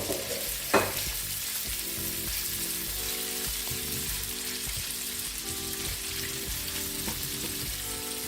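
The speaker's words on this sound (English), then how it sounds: "saute the shrimp on medium heat for about 4 minutes" Shrimp sauté over medium heat in garlic butter for a broccoli stir fry, producing a steady, even sizzle and crackle, close and continuous, with a single clink near the start and no talking.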